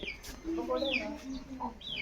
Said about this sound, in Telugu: చిన్న కోడి చిన్నపిల్లలతో పాటు ఇంకోటి ఉన్నదే